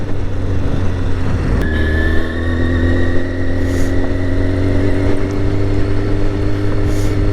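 A motorcycle accelerates steadily uphill on a loose gravel dirt road, its engine a loud, continuous near drone with a rising pitch and constant wind rush throughout.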